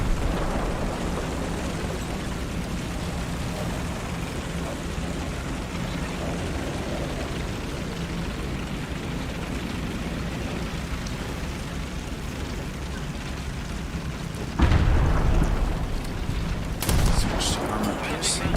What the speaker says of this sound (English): This guy trying to bomb us.